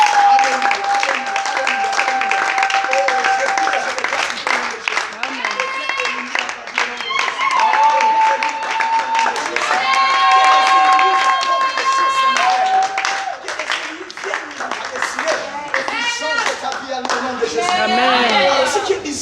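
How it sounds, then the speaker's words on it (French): Congregation clapping steadily with cheers and shouts at a church service, loud and sustained throughout, with singing or musical tones running underneath and voices calling out over the applause. "est-ce que tu peux acclamer pour Jésus?"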